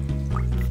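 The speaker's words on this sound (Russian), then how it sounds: "Включаем душ." A shower running in the Toca Boca mobile game, a steady, close hiss of spraying water that fills the whole short moment at an even level.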